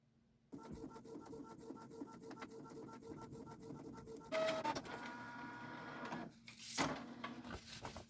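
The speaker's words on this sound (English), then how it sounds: "you're going to find whatever file you want to print and just print it however you normally do" A home printer prints a design directly onto fabric, starting with a click and then running with steady mechanical whirring, rapid rhythmic ticking of the print head and occasional louder clunks and feed noises, close and alone.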